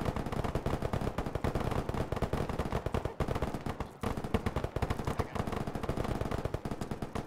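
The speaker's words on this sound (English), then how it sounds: "I'm hearing a lot of gunfire out there." Rapid bursts of automatic gunfire in a video game rattle continuously, dense and loud, with a brief break midway before the firing resumes.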